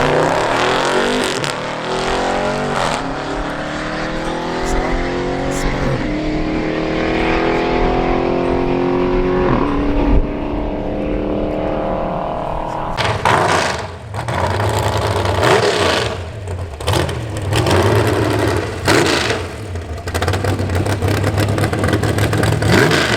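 A 392 car runs at a private race track, its engine roaring loud and continuous with rising and falling revs, shifts and passing sweeps over about twenty seconds, no voices.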